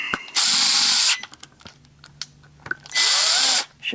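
A power drill with a clutch drives screws into a small metal lathe in two loud, sustained whirring bursts, each ending abruptly, with quieter mechanical clicks and handling noise in the pause between them.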